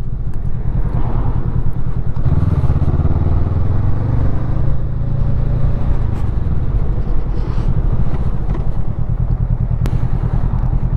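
A Honda CMX500 Rebel ridden at low speed through town traffic, its engine a continuous close rumble with a brief rise in revs, mixed with steady wind noise and no talking.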